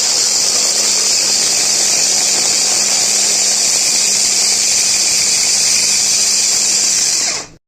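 Electric chopper chopping onions and green chilies with whole cumin, a loud, steady high motor whine held for about seven seconds before cutting off abruptly, with no talk.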